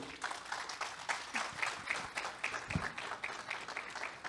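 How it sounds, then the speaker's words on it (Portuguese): An audience at a public-administration award ceremony claps throughout, a steady moderate patter of many hands with a few sharper individual claps standing out, heard at some distance. "Uma salva de palmas."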